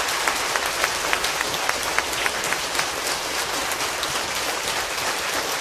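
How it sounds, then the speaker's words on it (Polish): Audience applause at a panel discussion on freedom and democracy in Gdańsk, a dense, sustained crowd clapping that holds steady throughout, loud and close, with a few sharper individual claps standing out. "Czy możemy im podziękować brawami, im wszystkim?"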